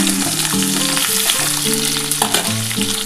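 Potato and pointed gourd sizzle loudly and continuously as they fry in a pan, with occasional stirring clatter and faint background tones.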